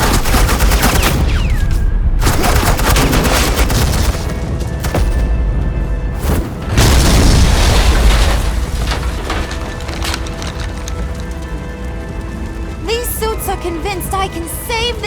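Suppressing gunfire in the Batman: The Enemy Within video game: loud, dense bursts of rapid shots and booms that run almost continuously, then thin out near the end.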